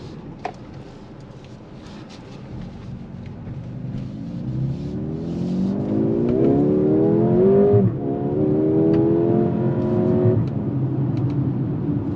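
A 2025 Mercedes-AMG GLA 35 SUV engine accelerates on a test drive, its note climbing steadily in pitch over several seconds, dipping briefly at a shift, then pulling up again, heard close and steady from inside the car.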